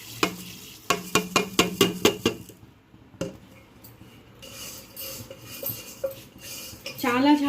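A metal spoon scrapes and clanks rhythmically against a pot while stirring a rice semolina (rice rava) mixture, about eight quick strokes, then softer scraping and a brief voice at the end.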